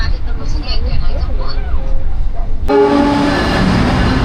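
Jayabaya train at Pasar Turi station: rumbling rail noise and station bustle, with a sharp jump into a louder steady mechanical drone and tonal hum partway through, with people talking in the background.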